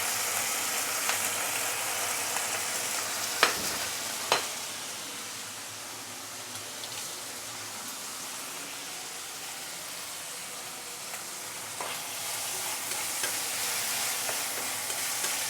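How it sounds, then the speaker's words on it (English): Shallot, ginger and garlic sauté in hot oil for a steamed flounder with taucu sauce, producing a continuous close hiss of sizzling with a couple of sharp utensil clacks early on and no talking. "So once the oil is heated up, we can put in the shallot,"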